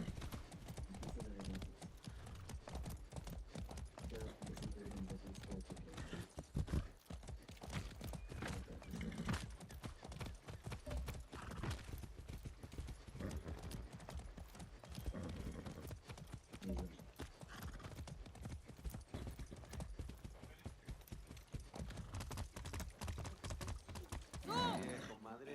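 In a video game, a horse gallops with rapid, continuous clip-clopping hooves that stay close and steady throughout, with occasional faint whinnies and a voice talking over it.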